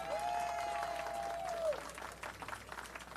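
A crowd applauds at a Hollywood Walk of Fame ceremony outdoors, a faint wash of clapping under a sustained whistle-like tone that drops away, then scattered claps fading.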